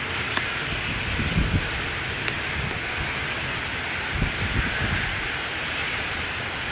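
Passenger jet engine at Edinburgh airport, a steady roaring rumble that stays constant throughout, heard from a distance outdoors.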